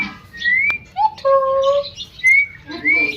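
A pet parrot gives several short, sharp whistled calls and chirps, close and clear, with brief pauses between them over quiet household background.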